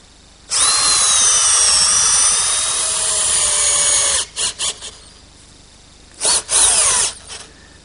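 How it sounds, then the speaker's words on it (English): A loud, high-pitched power drill driving screws into wood whines steadily for several seconds, stops, then gives a few short bursts and another brief run, very close. "then we'll drill and attach it with a couple screws"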